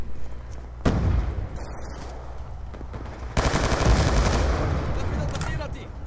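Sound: select-fire gun bursts in Call of Duty Black Ops 2 video game

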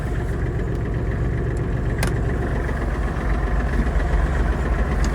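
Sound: Kubota GL-25 mini tractor engine running

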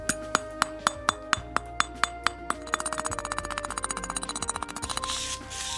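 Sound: knocking flux off a welding electrode

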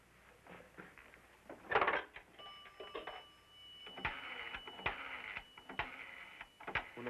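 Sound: telephone ringing

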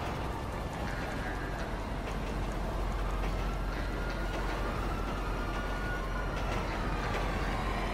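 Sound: train in GTA V video game

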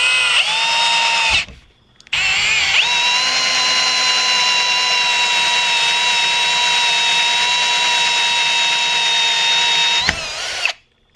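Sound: power drill drilling a hole in a flat PVC cap

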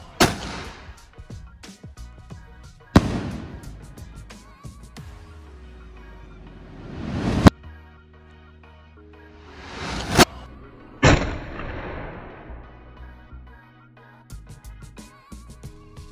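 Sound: 2-inch twin boom firework shell bursting

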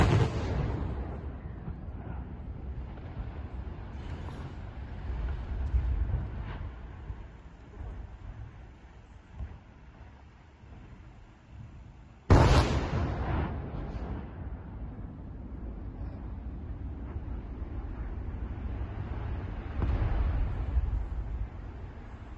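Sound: demolition blast of nuclear power plant cooling towers

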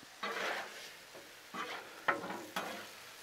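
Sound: seasoned ground meat stirred on Blackstone griddle

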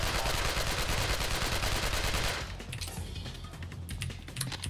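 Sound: AK rifle gunfire in the video game Alcatraz

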